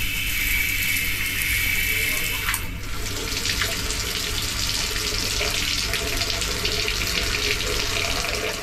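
Shower water runs in the bathroom of a deluxe sleeper compartment on a EuroNight train from Zürich to Prague. It makes a steady, fairly loud hiss with no break, and a brief click comes partway through.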